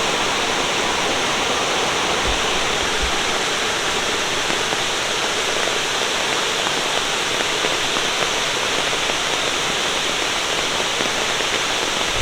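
A swollen mountain river in the Great Smoky Mountains near Gatlinburg rushes after Hurricane Ida, a loud, unbroken roar of fast water holding steady throughout with a couple of faint low knocks early on and no speech.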